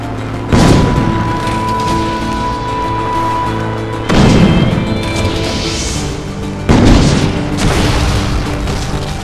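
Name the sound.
shooting and destroying flying machine in Assassin's Creed Brotherhood video game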